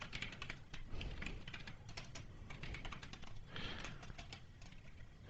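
Rapid, close clicking of keys as someone types on a computer keyboard, steady bursts with short pauses, fairly quiet and alone.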